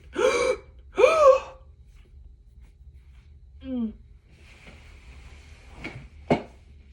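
Two quick, sharp inhaled gasps in close succession, taken as a double-breath breathing exercise, loud and close, followed by quiet with a few faint clicks.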